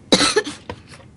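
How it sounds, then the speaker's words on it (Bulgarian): A woman with a cold coughs close by, one sharp harsh cough followed by a few fainter, shorter coughs. "Аз кашлям, защото не само съм настинала."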